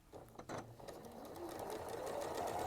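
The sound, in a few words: sewing machine stitching fabric pieces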